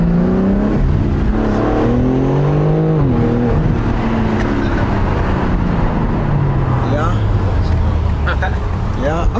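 A BMW M3 Competition accelerates hard, its engine rising through revs with gear shifts audible as pitch drops, loud and close from inside the car, with people talking over it.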